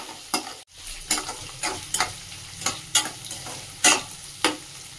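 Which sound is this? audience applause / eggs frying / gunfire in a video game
eggs frying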